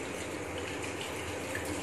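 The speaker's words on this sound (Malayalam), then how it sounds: "ഏറ്റവും അവസാനം ടാപ്പ് വളരെ കുറച്ച് തുറക്കുക" A faucet runs at a low trickle during handwashing, a soft steady hiss of water falling into a sink, faint and brief with no talking.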